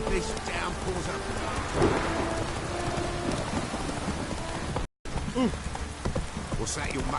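Steady rainfall in a video game downpour, a dense hiss running throughout with a brief dropout, while someone speaks over it and a horse named Roach is addressed.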